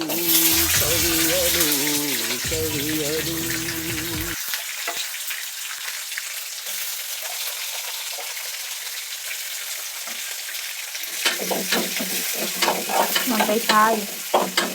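Onions fry in a pan with stirring and sizzling, a person talking over the cooking at first, then a quieter stretch of frying before more scraping and stirring near the end.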